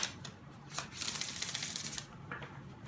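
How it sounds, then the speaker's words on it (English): Tarot cards are shuffled in several quick riffling bursts, close and fairly quiet, with crisp papery flutters and short pauses between them. "One last shuffle and we will pull a card for Scorpios."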